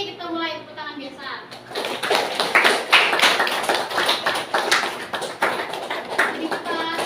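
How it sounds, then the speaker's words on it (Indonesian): A group claps hands together at a normal, steady pace in a classroom session, with a dense, continuous patter of claps following a brief voice. "Oke, kita mulai tepuk tangan biasa."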